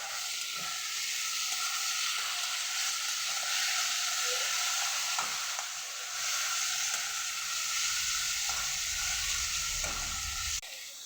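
Bitter gourd frying in hot oil, a steady bright sizzle filling the whole stretch, with occasional soft knocks and stirring sounds from a utensil in the pan.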